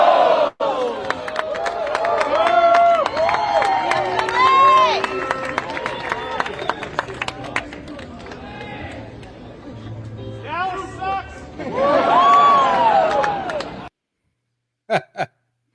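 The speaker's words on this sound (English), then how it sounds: "they started cheering after they said it" A crowd at the White House for the Eagles' visit sings and cheers in loud overlapping voices, surging and dipping for most of the stretch before it cuts off abruptly, followed by a couple of short faint bursts.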